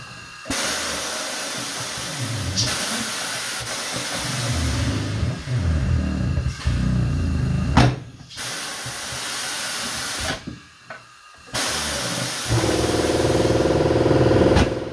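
A tire changing machine breaks the bead of a tire in a shop, giving a loud, steady rush of pneumatic hiss and mechanical rumble that runs almost the whole time, cut by a few brief pauses and bursts.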